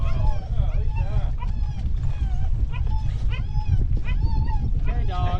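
A dog on a windy saltwater fishing outing whines and yips in rising, whistly cries that repeat throughout, close and fairly loud over steady wind rumble.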